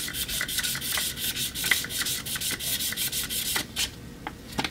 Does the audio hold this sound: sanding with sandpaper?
yes